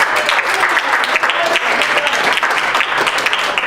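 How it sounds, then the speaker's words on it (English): Loud, dense clapping from a crowd, steady and close for the whole stretch with no talking. "Let's give it another round of applause for that."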